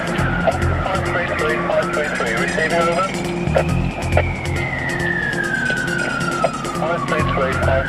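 A police car siren wails continuously, sweeping slowly up and down in pitch over engine and road rumble, loud and close throughout, on an emergency run to a hospital.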